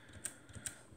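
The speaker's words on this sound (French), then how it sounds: "simplement on arme l'appareil comme ceci et on vient le déclencher" A Beier Precisa folding camera's Compur leaf shutter being released, two small sharp mechanical clicks close to the microphone in near silence.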